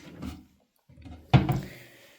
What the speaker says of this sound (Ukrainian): І ось така шухляда.